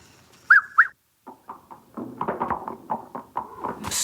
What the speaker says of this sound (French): Attends, je vais siffler mon cheval maintenant.